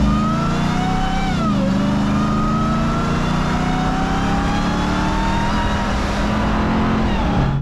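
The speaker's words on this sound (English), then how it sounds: "You get that whine in that supercharger, one of my favorite sounds." Supercharger whine from a 2023 RAM TRX Havoc Edition pickup, a loud steady high-pitched whine riding over a deep engine drone, rising and falling in pitch with the revs as the truck accelerates, close and continuous with no talk.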